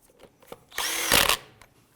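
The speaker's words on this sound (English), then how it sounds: "Then we'll go ahead and snug these down." Power tool snugging down lug nuts on a 2004-2009 Dodge Durango wheel, one short burst of about half a second of rising whir, loud and close, between faint handling clicks.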